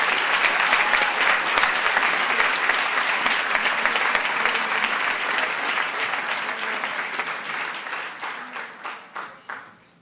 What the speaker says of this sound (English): can I have a round of applause, please, for all our awards winners and those who didn't also